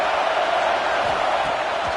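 Stadium crowd roaring and cheering at a video game college football match with the Gators on third down, a dense, steady wash of noise that holds without letup for two seconds.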